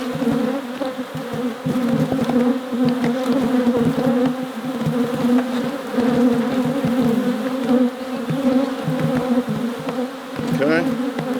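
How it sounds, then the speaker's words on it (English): Bees swarm densely around an open beehive, a loud, continuous buzz close by with individual insects darting past. "there's a lot of bees in here"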